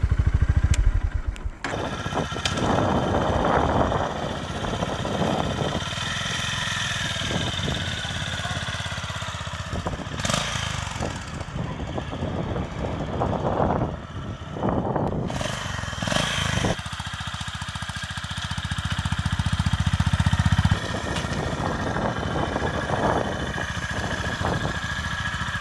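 A 2025 Honda GB350S retro-style 350 cc single-cylinder motorcycle engine runs with a steady, thumping idle and occasional revs, close and fairly loud throughout, with brief wind or handling noises mixed in.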